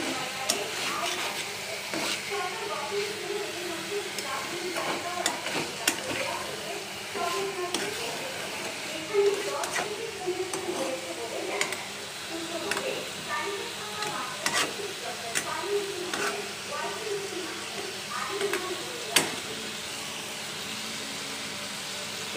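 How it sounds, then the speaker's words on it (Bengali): Onions and chilies fry in a pan for a curry, giving a steady, close crackling sizzle broken by scraping stirs, with some talk over it. "এখানে আমার পেঁয়াজ মরিচ ভাজা হচ্ছে তরকারি রান্না করার জন্য"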